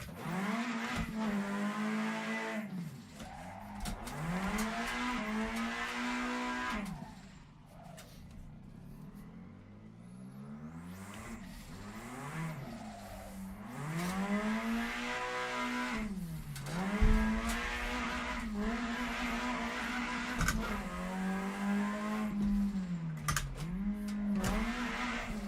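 A car drifts with the handbrake, the engine revving and falling in repeated swells while the tires squeal, and one quieter lull comes partway through.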